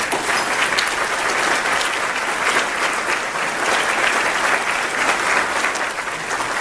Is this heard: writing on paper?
no